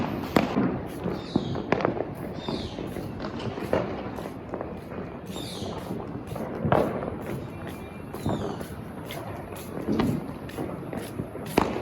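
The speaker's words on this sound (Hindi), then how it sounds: "यहाँ पे बहुत क्रैकर्स की साउंड आ रही है" Distant Diwali firecrackers burst outdoors in irregular sharp pops and bangs, some nearer and louder, over a low hiss of outdoor noise.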